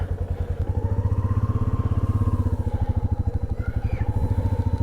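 A motorcycle rumbles loudly and steadily as the rider sets off from Tawang on a North East ride. The engine throb is close and continuous throughout, with no talking.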